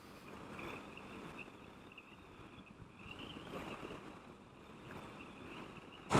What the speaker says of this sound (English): I'm running into a headwind